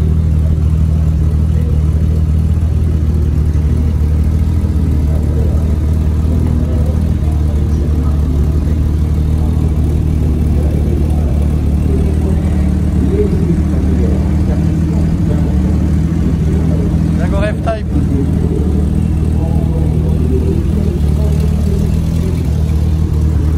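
A vintage Aston Martin engine hums steadily and loudly at the Montlhéry circuit, a constant droning note with slight revving swells throughout, heard from inside or close to the moving car.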